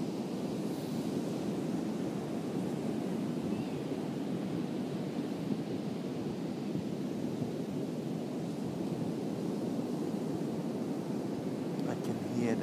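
Ocean surf rolling onto Virginia Beach, a continuous low rumbling wash with wind buffeting the microphone, steady and moderately loud throughout.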